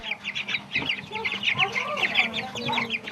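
Grown chickens raised by schoolchildren, clucking and chattering in quick overlapping calls, fairly close and moderately loud, with a few other faint sounds in the background.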